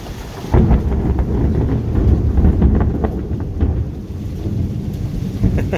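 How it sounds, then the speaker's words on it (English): Loud thunder rumbles right after a lightning strike in a storm, starting with a sudden crack and then a long, heavy roll that fades slowly under the sound of rain. "I'm waiting for the thunder off of that one."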